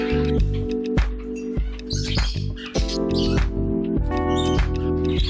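Several pet birds chirp and call loudly at feeding time after being given homemade chop, with bright repeated tweets and squawks close by, layered over one another almost continuously.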